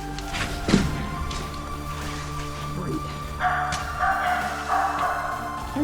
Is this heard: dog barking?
yes